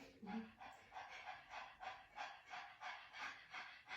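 A person pants rapidly to imitate a dog during a vocal breathing exercise, giving about ten soft, quiet, rhythmic breaths at an even pace.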